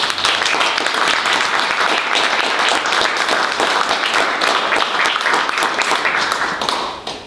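Audience applause welcoming poet Dave Oliphant at a book release reading at Malvern Books, steady dense clapping from a crowd sustained throughout before tapering off at the end.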